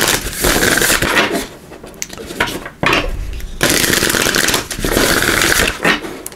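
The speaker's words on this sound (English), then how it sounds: "And we'll give these a good shuffle." A tarot card deck being shuffled by hand, loud and close, in bursts of rapid riffling and sliding cards separated by short pauses, with no voices.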